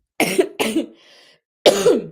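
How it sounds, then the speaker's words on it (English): Three coughs, close and forceful: two quick ones back to back, a short pause, then a third, with a faint hiss between them. "You may need to cough too if you are releasing."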